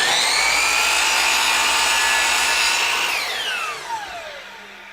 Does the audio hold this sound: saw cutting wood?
yes